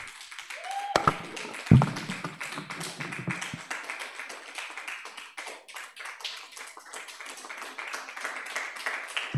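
An audience claps and taps to welcome a speaker at a church-style talk, a thumping knock early on, then steady, moderately loud clapping filling the rest of the room with no voices over it.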